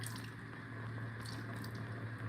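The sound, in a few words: pouring pineapple juice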